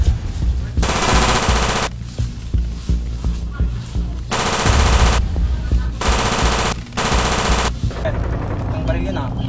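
Loud, close automatic gunfire in a staged police operation comes in several sustained bursts separated by brief pauses, with voices heard among the shots.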